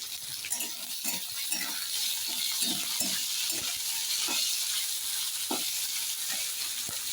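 Chopped onion fries in a pan for rava upma, a constant bright sizzle broken by regular soft scrapes of a stirring spoon; no voices.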